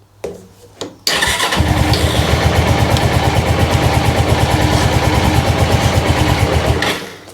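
A few cranking clicks, then an engine catches and settles into a loud, steady chugging idle before cutting off at the end.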